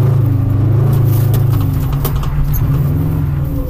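A rally car engine accelerates hard, its revs climbing and holding in a loud, steady drone that stays close throughout, with brief shifts in pitch.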